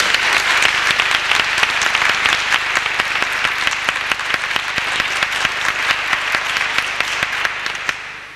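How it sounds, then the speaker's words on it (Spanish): A large audience claps steadily at a 1995 Izquierda Unida political rally in Carmona, a loud, dense and sustained applause heard alone, holding level for several seconds before tapering off at the end. "Un aplauso para Marcelino."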